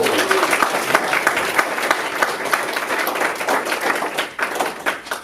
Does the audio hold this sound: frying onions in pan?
no